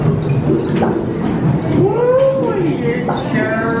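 The Calico Mine Ride at Knott's Berry Farm rumbles along its track with a steady rolling drone, a squealing wheel screech sweeping through the middle, and voices talking over the ride.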